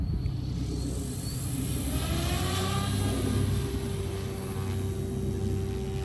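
Goosky RS4 RC helicopter with its motor running on a maiden flight: a continuous whining electric motor and rotor drone, steady and fairly loud, with a faint rising tone partway through and no voices.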